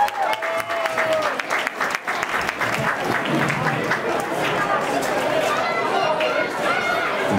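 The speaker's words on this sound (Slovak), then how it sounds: "ešte raz veľký potlesk" Audience at a goulash-cooking contest award ceremony applauding warmly, brisk clapping that rises and holds steady, with crowd chatter mixed underneath.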